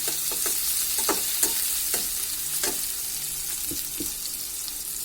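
Garlic and onion fry in oil for a dried fish (shutki) dish, sizzling steadily, with a spoon scraping and stirring in irregular strokes. No talk.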